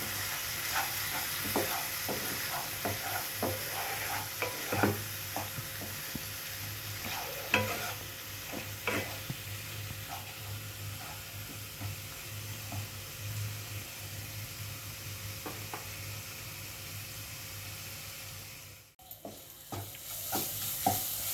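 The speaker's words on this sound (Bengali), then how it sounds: "আর লঙ্কার গুঁড়ো দিয়ে অল্প জল দিয়ে ভালো করে কষাবো" A spice paste of coriander powder and chili powder with a little water is sautéed in a pan, producing continuous soft sizzling and bubbling under repeated close scraping stirs, with a brief dropout near the end.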